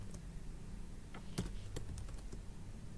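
Computer keyboard typing while writing code, with irregular soft key clicks and a few sharper taps scattered over a low steady background hum.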